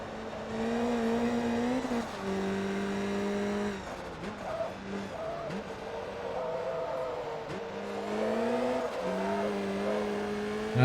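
A 700 HP race car in Forza Motorsport 2 drives in a semi-pro invitational event, its engine revving and shifting steadily throughout with changing pitch as the car slides sideways, loud and continuous.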